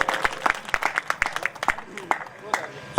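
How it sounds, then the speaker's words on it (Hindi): Scattered, uneven hand claps ring out at a kavi sammelan poetry gathering in Pandhurna, distinct individual claps spaced apart rather than a full ovation, fairly close and moderately loud. "जोरदार ताली से स्वागत करें"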